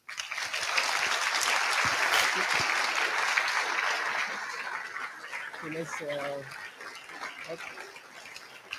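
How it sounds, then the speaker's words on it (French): An audience applauds the event organisers in a hall, a dense burst of clapping that slowly thins out, with a few voices talking over the tail end. "j'aimerais des applaudissements pour eux, s'il vous plaît"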